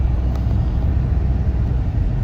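An automatic car heard from inside while driving, a steady low road-and-engine rumble filling the cabin for a couple of seconds with no talking.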